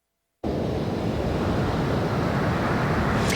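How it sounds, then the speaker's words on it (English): Strong shore break pounding a beach, a steady, dense roar of surf close by that bursts in suddenly after a moment of silence and carries on without letup. "The shore break's very strong here, and then it's sucking out and moving down the beach."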